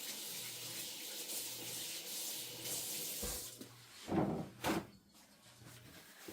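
Thin-cut pork chops are rinsed under a running kitchen tap: a steady, soft hiss of water, then a few louder splashing bursts as the meat is handled.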